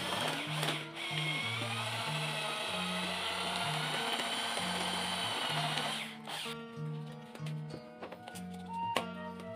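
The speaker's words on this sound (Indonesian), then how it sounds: "Lalu aduk hingga rata" A gypsum mixture being stirred smooth gives a steady, whirring, motor-like drone for about six seconds over quiet background music, then cuts out while the music continues.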